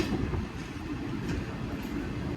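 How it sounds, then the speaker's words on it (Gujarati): A train with a newly repainted engine runs along the rails, giving a steady, loud, close rumble and rattle of wheels throughout with no talking. "અત્યારે હવે ટ્રેન કેટલી ફાસ્ટ જાય તમે જો"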